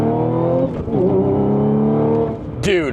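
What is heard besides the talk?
supercharged Audi S5 B8.5 accelerating past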